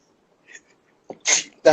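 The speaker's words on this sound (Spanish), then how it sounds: "Perdón, estoy estornudando." A person sneezes during a Spanish-language radio interview, with a soft sniff followed by two sharp, close sneezes in quick succession.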